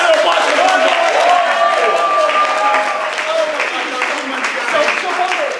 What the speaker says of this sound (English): Can we get one more round of applause for Bongo?